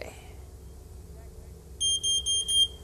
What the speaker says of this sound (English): Smoke alarm. Up, right here.